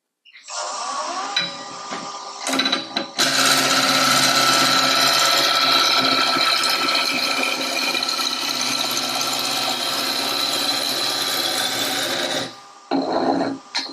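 A wood lathe turns a spindle blank during a woodturners' practice demonstration, giving a loud, steady whirring hum and cutting rasp that runs unbroken for about ten seconds before winding down, with brief stops and restarts at either end.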